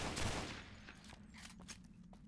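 Rapid gunfire from a scoped weapon in the video game Fallout: New Vegas with the Boulder Dome mod, a quick burst of repeated shots forming a dense, steady clatter that stays loud throughout.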